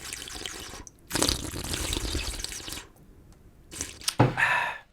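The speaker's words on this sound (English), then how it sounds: "Please allow me to have a sip of water." A person takes a sip of water in a quiet room, with short wet slurping and swallowing bursts separated by brief pauses, close and fairly soft.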